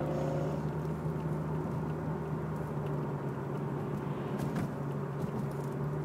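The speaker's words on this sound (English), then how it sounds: "And really sounds good. These are upgraded exhaust pipes on this car." A Corvette C6 with upgraded exhaust pipes idles, a steady low rumble holding an even drone for several seconds with no revving and no voices.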